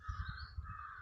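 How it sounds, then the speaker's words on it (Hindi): A bird calls outdoors in a few short, harsh, crow-like caws, moderately near over a steady background hum, with no one speaking. "एक चिड़िया देखिए अभी चहक रही है"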